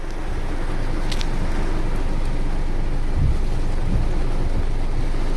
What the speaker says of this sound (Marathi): पाऊस मुसळधार पडतोय आता आज पण